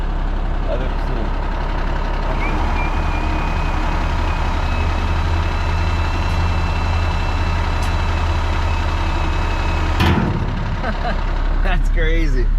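A 2010 International 7600 dump truck with a Cummins engine runs with a steady low diesel drone close by, a high tone whining over it and a sharp clunk near the end as a voice talks over the engine.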